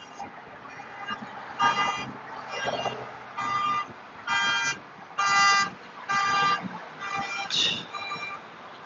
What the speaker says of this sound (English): You guys hear the horn?